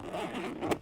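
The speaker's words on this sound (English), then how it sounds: "So this zipper doesn't care that it's dirty." Heavy-duty zipper on a dirty, water-resistant pack-out bag rasps open in one quick close pull that ends in a brighter scrape.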